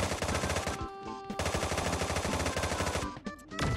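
Rapid automatic gunfire in the Sausage Man shooter game, a fast, even stream of loud shots with a couple of brief gaps before the firing resumes.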